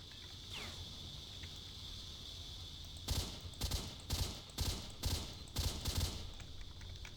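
Several rapid bursts of gunfire in S.T.A.L.K.E.R.: Shadow of Chernobyl, loud and sharp over a steady background hum, starting a few seconds in.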